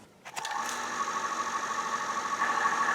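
An asynchronous electric motor, run as a motor from a 14 microfarad capacitor, starts up with a click and then hums steadily with a bright mechanical whine, loud and close, with no talking.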